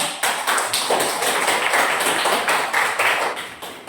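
Students in a class clapping their hands steadily for four seconds, a dense nearby patter of many claps with a slightly rhythmic pulse, loud throughout.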